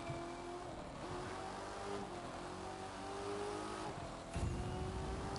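Interceptor Corvette race car in The Crew 2 streets race, its engine droning steadily with shifting pitch, a sharp louder burst near the end, alone without talk.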